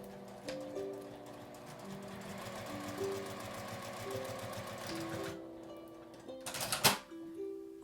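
A sewing machine stitches the edge of a fabric IC card pouch in rapid rhythmic bursts, pausing and restarting several times, close and clear, with a brief clatter near the end.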